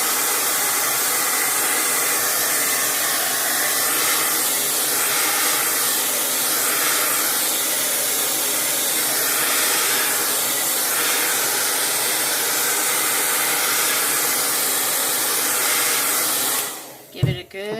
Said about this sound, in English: blasting with my blow dryer